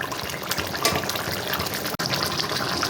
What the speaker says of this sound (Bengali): ঝোলটা ফুটে গেছে, আমি এবারে কোপ্তাগুলো ছেড়ে দিচ্ছি